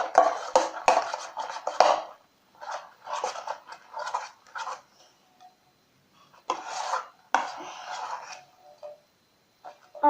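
Homemade slime made with shaving foam being stirred in a bowl, giving repeated bursts of wet, rasping scraping with short pauses between strokes, close and fairly loud, with no talking.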